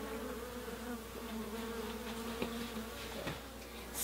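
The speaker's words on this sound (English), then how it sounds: "Worker bees are bringing in pollen." Worker bees buzz inside a hive in spring, a dense, steady droning hum from many insects close by, with occasional louder passes as individual bees move near.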